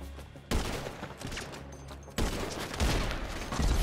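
Bursts of gunfire in GTA 5, loud rapid volleys in two sustained stretches separated by a short lull, close and harsh.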